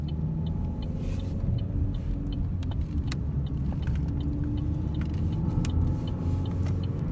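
An engine of a car that wouldn't start after getting gas, its fuel-system part just replaced, runs close by with a steady rumble, sharp clicks and key-like jingles scattered over it, no talking.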